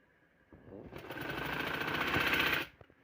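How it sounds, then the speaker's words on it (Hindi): Sewing machine running a continuous stitching burst along a trouser seam, rising to a steady close whir for about two seconds before stopping, with no talk over it. "दोनों को खींच लेना एक जैसा बराबर, और ये सिलाई लगा देनी है"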